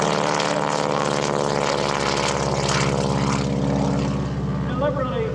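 A propeller aircraft at the EAA AirVenture airshow, its engine droning loud and steady throughout as it flies past. A commentator talks over the sound.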